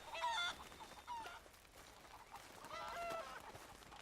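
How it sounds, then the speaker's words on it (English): Chickens in Red Dead Redemption 2 give a few short honking, squawking calls, loudest near the start and again around the third second, over a quiet outdoor game ambience. "Hello, chickens."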